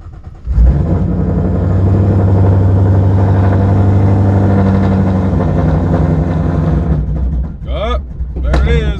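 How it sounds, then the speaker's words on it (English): An S197 Ford Mustang's engine cranks and catches on a cold start, then idles loud and steady close by for several seconds before a few short sounds near the end. "I always gotta show y'all the cold start"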